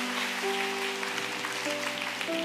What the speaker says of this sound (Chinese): 来给他热烈的掌声。